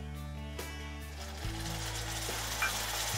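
Tomato puree sautéing with onion and garlic-ginger paste in a pan for a potato and peas curry, a soft steady sizzle under a low continuous hum, fairly quiet.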